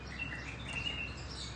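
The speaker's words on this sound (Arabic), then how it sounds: "تغريد." A canary sings faintly with thin, high chirping notes against a steady background hiss, with no voices.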